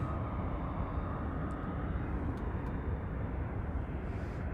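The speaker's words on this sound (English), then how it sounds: "American Airlines, it is on the move" Steady, even roar of an American Airlines jet moving at Las Vegas Harry Reid International Airport, heard from a distance and fairly faint, with no talk over it.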